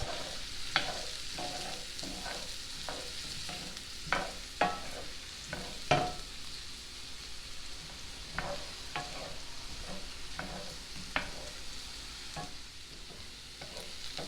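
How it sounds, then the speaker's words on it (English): Chopped onions sautéing in oil and butter for smothered pork chops, a steady soft sizzle with intermittent scraping stirs and a few sharper utensil knocks, close by, with no talking. "Then we're going to add our chopped onions. We're going to saute these for, like I said, about 2 to 5 minutes."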